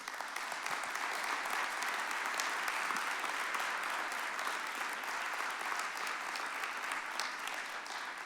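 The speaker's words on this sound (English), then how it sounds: "they deserve a round of applause from all of us" Steady, dense applause from a large crowd, sustained and even throughout with no pauses.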